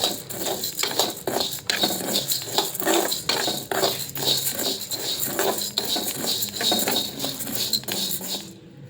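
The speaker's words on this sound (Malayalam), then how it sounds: "ഈ അരിമണി ഒന്ന് വറുത്തെടുക്കുക കേട്ടോ. നമ്മുടെ സാധാ റേഷൻ അരിയാണ്. അത് നന്നായിട്ട് വറുത്തെടുക്കും." Plain ration rice grains dry-roasting in a pan over an outdoor hearth, stirred with a utensil: constant rapid patter and scraping with sharp clinks of metal against the pan, close and fairly loud, ending abruptly.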